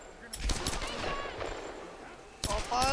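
Bursts of machine gun fire in the Tomb Raider video game, loud rapid broadband cracks in short clusters with a renewed burst near the end, mixed with other game sounds.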